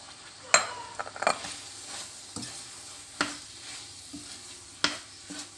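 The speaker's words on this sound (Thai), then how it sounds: "แล้วก็จะเติม เนื้อปลาที่เราโขลกเอาไว้นะคะลงไปผัด ให้เข้ากันก่อน" Pounded fish meat is stir-fried into curry paste in a pan for a Thai coconut fish curry, with a spatula scraping and stirring in irregular strokes over a soft, steady sizzle, close by.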